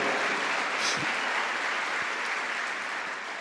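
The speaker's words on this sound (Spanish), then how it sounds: "Dale un aplauso a Él si quiere" Church congregation applauding during a Spanish-language sermon, a dense steady wash of many hands clapping that fills the space and tapers slightly toward the end, with no voices standing out.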